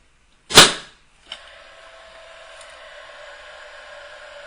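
A Paslode Impulse cordless nail gun fitted with a battery adapter cycles once, giving a sharp loud pop followed by a brief click, then a steady fan whir that runs on to the end.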